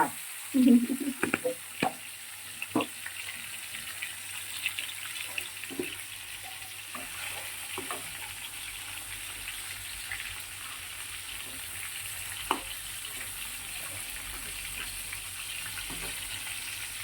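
Hot oil sizzles and hisses steadily in a pan used to fry katla fish, with a few clinks and stirring scrapes near the start, then a long, even crackle that fills the background.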